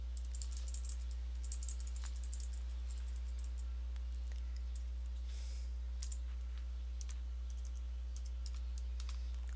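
Typing on a computer keyboard: a run of light, close key clicks in uneven bursts, heavier at the start, over a loud steady low electrical hum with no talking.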